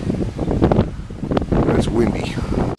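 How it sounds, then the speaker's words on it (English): Gusty wind buffets the microphone in a steady low rumble, with a voice talking over it throughout. "It's windy."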